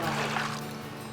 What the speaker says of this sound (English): I'm going to add a liter of water.